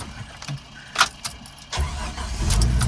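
A diesel Jeep YJ cranks with a few brief clatters and then catches, settling into a steady, close engine rumble that grows toward the end of the short clip.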